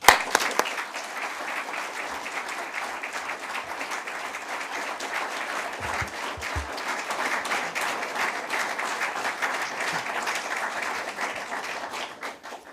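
Audience applause welcoming the Prime Minister at a Policy Exchange keynote, a full room clapping steadily and evenly, loud and sustained for several seconds.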